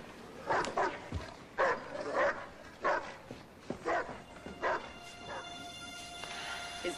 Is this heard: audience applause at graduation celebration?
no